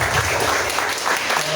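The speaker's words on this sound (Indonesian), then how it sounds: "Kita tepuk tangan." A church congregation applauds during an Ascension Day service, a dense, even burst of clapping that fills the room for a moment.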